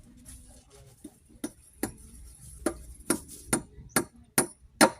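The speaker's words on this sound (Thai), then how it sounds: "ตอกตะปูซะก่อน" A hammer drives nails into wood, roughly ten sharp, close knocks that come in an uneven rhythm, quicker and louder toward the end, over a quiet background.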